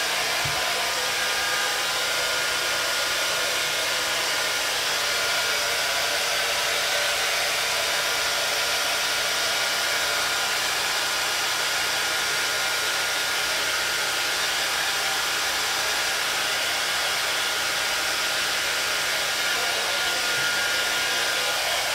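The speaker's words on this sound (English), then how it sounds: "I'm going to go back over it with the hair dryer one more time" A hair dryer blows steadily on a hair system, one loud continuous whirring roar held at the same level from start to finish with no breaks and no voices.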